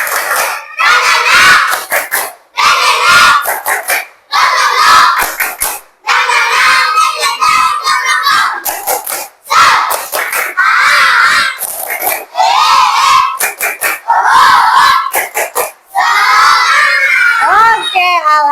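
A class of children in an Indonesian morning lesson performs a tepuk semangat clapping chant: loud, rhythmic bursts of shouted group voices and claps, split by short pauses, repeated several times close by.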